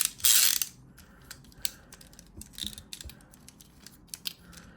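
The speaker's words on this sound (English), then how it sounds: "his gun still ratchets back and forth" An Energon Cyclonus toy gun ratchets back and forth, giving a run of small dry plastic clicks with one louder rattle near the start, all up close and alone.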